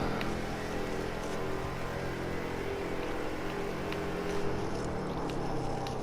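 A vintage touring car's V8 engine accelerates on track, heard from inside as a continuous, even drone with strong steady harmonics and no breaks.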